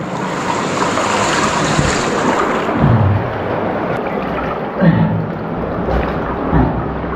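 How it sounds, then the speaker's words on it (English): Fast floodwater rushes through a flooding cave in a loud, steady, close roar with turbulent surges and no pauses, and no one speaks. "Wow, the water has some force over here."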